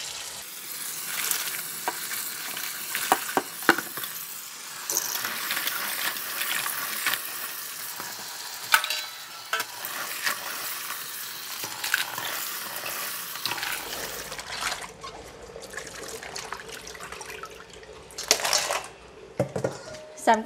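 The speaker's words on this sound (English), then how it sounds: "So I'm going to go ahead and give it a rinse a couple of times" Razor clams with sharp shells rinsed a couple of times under running water, a continuous hissing splash with bursts of clattering shells, growing brighter and more gurgly toward the end, no clear talk.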